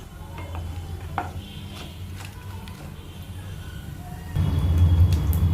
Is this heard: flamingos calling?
no